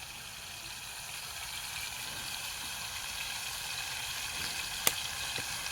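Mango curry roasts in a pan in a village kitchen, a steady, even sizzle that holds for several seconds, with one brief click near the end.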